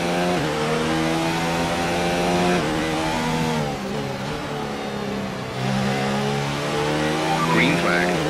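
A racing car engine drones and revs in steady sustained pitch bands, shifting gears a few times, loud and continuous with a voice speaking over the radio at points.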